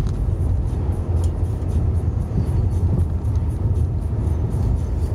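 A car cruising at about 112 mph on a Scottish road near Stirling gives a steady, loud low rumble of engine and road noise, continuous throughout with no talk.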